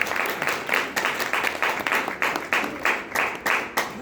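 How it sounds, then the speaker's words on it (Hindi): Loud, rhythmic applause from an audience at a Hindi Gita religious discourse, with steady clapping in repeated bursts and a faint background voice beneath it. "ताली बजाइए जोरदार"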